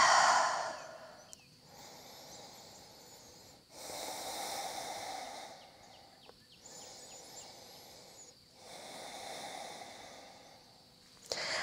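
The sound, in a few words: deep breathing during yoga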